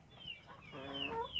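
Chickens cluck softly in a compost coop built from leaf litter, a brief, faint run of short clucks and a rising call against quiet background.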